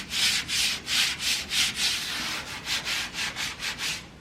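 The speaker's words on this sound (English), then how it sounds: "clay barring the paint right now" Clay bar rubbed back and forth across the paint of a lowered 4x4 second-gen Cummins truck, a close, steady run of about fourteen rhythmic swishing strokes with no talk.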